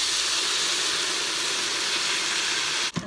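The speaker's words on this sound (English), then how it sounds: "now I'm going to deglaze the pan with a little bit of red wine" Red wine hitting a hot pan while deglazing for pot roast, giving a steady, loud, broadband hiss and sizzle that holds evenly and then cuts off sharply with a brief clunk near the end.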